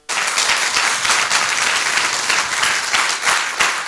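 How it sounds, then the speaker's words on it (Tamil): An audience in a hall breaks into steady, loud applause, a dense wash of many hands clapping that continues without pause. "உங்களுக்காக ஒரு பெரிய பாராட்டு கொடுங்க"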